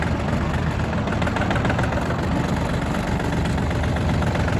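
A Yanmar RS-24 mini tractor's 24-horsepower diesel engine runs steadily in a higher gear, a loud, close, continuous chugging rumble with no talking.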